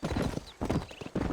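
Horse hooves clip-clop in the video game Red Dead Redemption, with three quick bursts of close, loud hoofbeats separated by brief pauses and a faint whinny-like tone in between.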